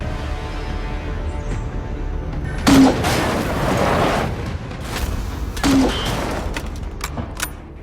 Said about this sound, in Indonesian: Tapi ternyata di sana sudah ada sniper Barbosa yang berjaga di perbatasan lalu menyerang mereka.